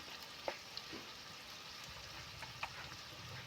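Green chilies and spices frying in a pan for raw banana bharta, a soft, steady sizzle at low level with a few faint clicks and stirring sounds, no talking.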